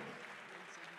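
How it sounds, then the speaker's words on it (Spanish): Faint, steady applause from the audience at a WAR MMA event, clapping for a young fighter after his first win. "un fuerte aplauso para él"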